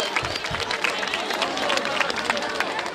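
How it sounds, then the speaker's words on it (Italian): Crowd applause at the Ortona carnival, a dense, steady wash of clapping and hubbub with mixed voices from a large gathering, holding at an even level throughout. "Quindi un altro applauso a questo carnevale."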